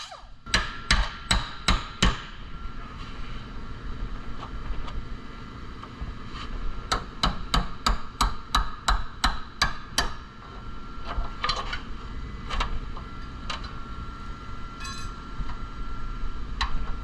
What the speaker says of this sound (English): Once it's split, I'll separate it with a hammer and chisel and some heat.